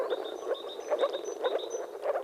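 Soft, low bubbling croaks from several male moor frogs in mating season, repeating in quick rhythmic bursts, moderately close with a faint high whistle above.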